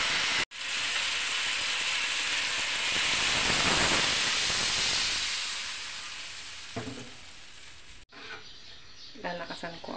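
Water poured into a hot cooking pot after fish sauce and toasted ingredients sets off a loud, steady hiss and sizzle of steam that slowly fades, followed by stirring clatter and a brief voice near the end.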